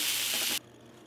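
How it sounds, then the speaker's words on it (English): Vegetables for a chicken broccoli stir fry sizzle loudly in a pan, a bright steady hiss that cuts off abruptly after about half a second, leaving a quiet background. "So we're about 8 minutes into frying our veggies."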